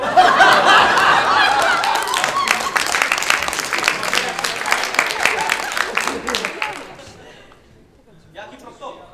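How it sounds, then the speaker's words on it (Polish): Energetic applause with mixed laughter and shouts fills a small improv comedy show audience. It starts loud and dense, then tapers off, and a few voices speak briefly at the end. "Brawa!"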